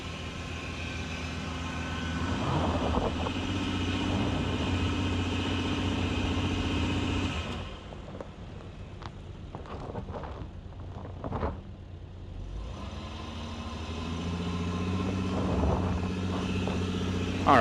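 A 2012 Honda Pilot with a 250-horsepower engine and five-speed transmission runs at full throttle up a steep hill, giving a steady loud drone that drops back briefly midway before the strained engine roar builds again.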